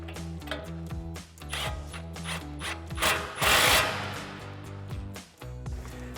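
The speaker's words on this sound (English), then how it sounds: "Then we're going to grab a 22mm socket to tighten this down." Ratchet fitted with a 22mm socket tightening a castle nut on a tie rod kit for a 2005-2023 Toyota Tacoma; rapid close clicking strokes run throughout, with steady tonal background music underneath.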